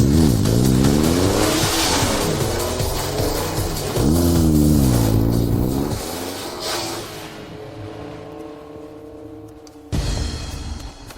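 A small motorcycle and a supercar launch together at a race start, loud close engines revving and swooping up through gears, then fading away before a brief sharp burst near the end.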